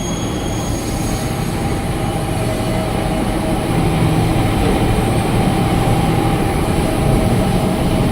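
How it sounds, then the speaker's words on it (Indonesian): A KRL commuter train pulls into platform 6 at Bekasi station on the Cikarang line, a steady loud rumble of wheels and carriages filling the whole stretch without a break. "KRL-nya udah nyampe di jalur 6 stasiun Bekasi"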